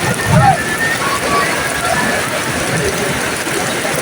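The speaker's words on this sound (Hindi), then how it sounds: "बहुत तेज़ बारिश हो रही है।" Heavy rain pours down in a loud, steady roar at the Prophet's Mosque in Medina, with a voice speaking beneath the downpour.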